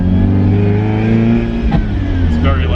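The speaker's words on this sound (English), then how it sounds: "It's nearly warm, so we can actually rev this thing out." A car engine revs hard and loud up close, its pitch rising and falling, with a brief voice underneath.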